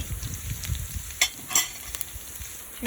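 Ground spices, including coriander powder and turmeric, fry over low heat for a South African beef curry, with a quiet sizzle broken by sharp scraping clicks as they are stirred.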